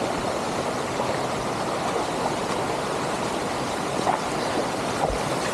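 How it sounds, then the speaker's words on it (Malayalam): Water rushes continuously over rocks in a small stream at the very top of the Ampoori waterfall in Kerala, a close, steady broadband roar with no talking. "വെള്ളച്ചാട്ടത്തിൻ്റെ ഉറവ കണ്ടുപിടിച്ചാണ്"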